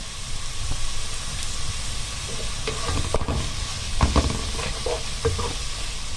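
Chicken sizzling and frying in a pan with onions and green pepper, a steady close crackle with occasional stirring scrapes and louder sputters, no voices.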